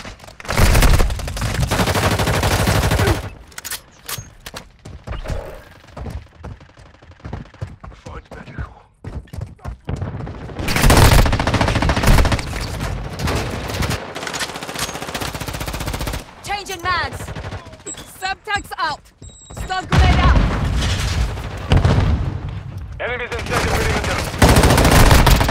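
Loud automatic gunfire from the mobile shooter game Warzone Mobile comes in long rattling bursts separated by short pauses, with voices calling out between volleys.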